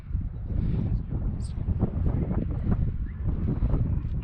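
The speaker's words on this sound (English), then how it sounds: "Hopefully the wind's not too bad up here" Wind buffets the microphone on a hilltop hike near Sedona, a low, loud rumbling roar with gusty swells and no speech.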